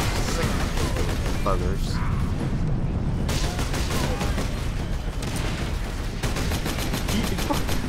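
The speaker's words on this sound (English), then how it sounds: "Shooting at me now" Continuous dense gunfire and explosions from the video game Space Marine, a rapid unbroken barrage of loud shots with mechanical clatter, while someone speaks briefly over it.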